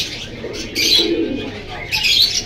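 Pigeons at a market stall in Jinjira bazaar give soft cooing calls with a few higher chirps, rising in two louder bursts over a low steady market rumble.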